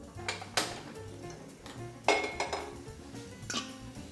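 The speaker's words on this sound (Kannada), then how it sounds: "ಒಲೆ ಹಚ್ಚಿಕೊಂಡು ಪಾತ್ರೆ ಇಡಿ." Metal cooking pots clank and clink close by in a kitchen as a pot is set down on the stove, with several sharp knocks spaced irregularly over quiet background.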